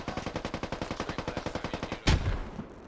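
Full-auto rifle fire in close-quarters video game combat, a loud, even rapid stream of about twenty shots ending in a heavier blast with a decaying boom.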